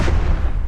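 A freighter ship blowing apart in the space combat game EVE Echoes, the Charon capital ship erupting in a loud, deep, rumbling boom that fills the whole short moment at close range.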